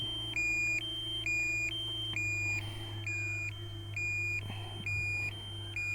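Short electronic low-battery beeps from a DJI Mini 2 drone controller repeat at a steady, even pace, each one a bright high tone, over a constant low hum with no talking.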